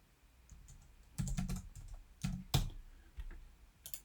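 Keys tapped on a computer keyboard in a few short, irregular bursts of clicks, close and quiet, with no talking.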